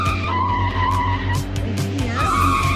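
Tires squeal continuously as a car drifts in a racing video game, a loud sustained skid over steady engine drone with no pause.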